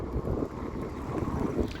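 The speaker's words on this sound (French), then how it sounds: "En plus il y a du vent." Steady wind buffets the microphone while riding a Mokwheel Basalt ST fatbike outdoors, a loud continuous low rumble with no speech.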